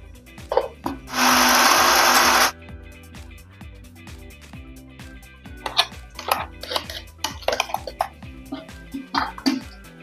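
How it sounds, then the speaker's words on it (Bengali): A kitchen mixer grinder whirs loudly for about a second while blending boiled radish greens. Clattering, knocking handling sounds surround the burst, and a voice is faintly present. "মূলো শাকটা আমি সিদ্ধ করে নিয়েছি, আমি এখন মিক্সচারে দিয়ে বেটে নেব"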